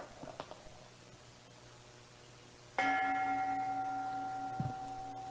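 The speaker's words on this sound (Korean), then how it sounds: "그냥 종소리 땡 하는 소리로 밖에 안 들립니다" A single bell strikes partway through and its tone sustains steadily, fading only slightly, in a quiet room after a few faint clicks.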